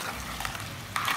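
Crabs cook in a pan with ginger garlic paste, giving a soft, continuous sizzle that briefly swells with a stirring scrape near the end.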